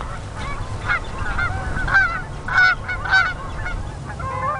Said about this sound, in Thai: ฝูงห่านแคนาดาในช่วงเวลานี้